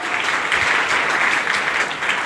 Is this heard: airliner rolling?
no